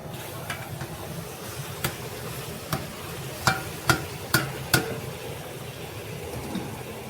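Ginger and garlic fry in oil in a large pot for chicken biryani, a steady low sizzle broken by several sharp clinks of a stirring spoon against the metal.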